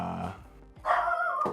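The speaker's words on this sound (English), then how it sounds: "you're a bad boy for barking" A dog barks close by in a short burst, one strong bark rising loudly near the end over quieter room tone, with a faint voice hushing it.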